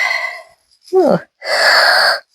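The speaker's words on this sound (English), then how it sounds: "little yawn" A single drawn-out yawn rising and falling in pitch, close and clear, between short stretches of talk.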